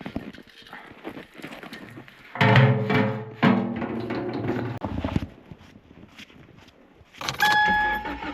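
A car driving in snowy, remote Alaskan conditions with snow packed in its wheels produces irregular thumps, clunks and rattling vibration. Louder bursts come and go over a low road rumble, and no one speaks.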